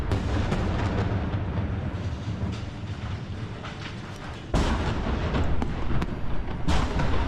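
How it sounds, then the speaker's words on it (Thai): Gunfire aimed at a Russian position in war footage from Toretsk, a loud continuous rumble with a sharp louder blast partway through and scattered cracks after it, with no talking. "โอ้เขาเขาจะยิงไปนู่นครับ"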